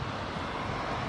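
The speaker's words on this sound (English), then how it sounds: "the FedEx feeder Cessna coming in." A FedEx feeder Cessna comes in to land, its engine a steady, fairly faint drone heard from a distance for about a second, with a little wind noise.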